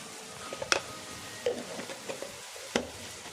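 Tomato with rock salt and turmeric sautés in a pan for a spicy Tamil crab pepper fry, a faint, low sizzle punctuated by a few sharp spoon clicks and scrapes as it is stirred, with no speech.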